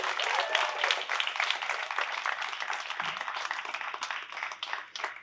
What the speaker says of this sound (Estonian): Teeme palun nende suure aplausi.